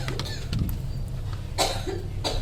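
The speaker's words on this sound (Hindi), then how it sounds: "अम्मी पे खांसी लग गई" A short cough bursts out near the end, with a quieter follow-up, over a steady low hum and background noise.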